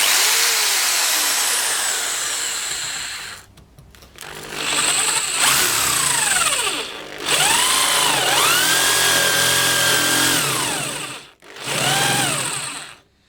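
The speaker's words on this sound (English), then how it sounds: "30mm spade bit. And I'm gonna try and do it full speed" A Black and Decker KR705K hammer drill bores with a 30mm spade bit at full speed, a loud, whining motor drone that swoops up and down in pitch over several bursts, with brief pauses between.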